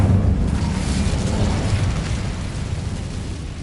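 Incendio fire spell cast in the video game Hogwarts Legacy, a dense roaring burst of flame that swells loud at once, then slowly thins out over a few seconds, heard alone without talk.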